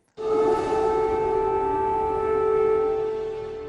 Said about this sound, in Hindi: कीव में रह रहकर बजते सायरन